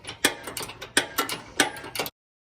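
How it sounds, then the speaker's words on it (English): A spanner ratchet tightening an 18mm bolt gives a quick run of close, crisp clicks, several bursts over about two seconds, then stops. "So if you have a spanner ratchet, it's an 18mm bolt."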